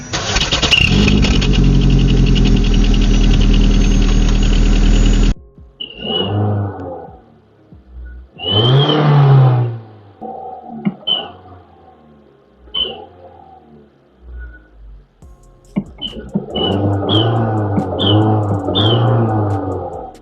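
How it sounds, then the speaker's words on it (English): A car fitted with a whistle-type turbo noise device on its exhaust: a loud sustained rev opens, then a string of short, high whistling blips and throttle bursts, loudest near the end, with no talking. "you put this on your exhaust, and as you rev it, it gives it a turbo noise"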